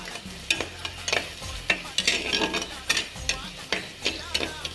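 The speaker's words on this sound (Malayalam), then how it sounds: "എണ്ണ ചൂടായി അതിലേക്ക് ഒരു സവാള ഇരിഞ്ഞെടുത്ത് കൊടുക്കുക ഇനി സവാള നന്നായിട്ട് വഴറ്റുക" Sliced onion sautéing in hot oil for a Kerala fish curry, a steady close sizzle broken by repeated scraping stir strokes of a spoon against the pan, with no voices.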